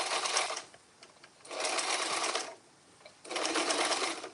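A sewing machine double-stitches hair or fabric in three distinct bursts of fast, even whirring separated by short quiet pauses, close and fairly clear with no talking.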